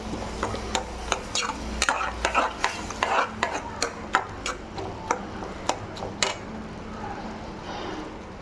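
Potato and green peas gravy ingredients frying in a pan, with a spatula scraping and clicking in a steady, repeated rhythm over a low sizzle close by.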